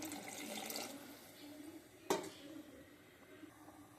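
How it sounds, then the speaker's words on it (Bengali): Water pours briefly into a biryani pot, a soft splashing trickle with one sharp clink partway through, close and quiet, with no voices. "একটু জল দিয়ে দিই"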